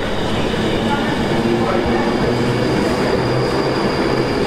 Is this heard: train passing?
yes